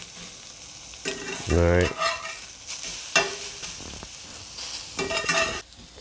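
Seared food fries in a pan, a soft ongoing sizzle with a few utensil clatters and brief bursts of scraping, and someone speaks briefly.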